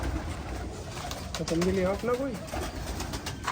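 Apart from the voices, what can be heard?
pigeons cooing on a rooftop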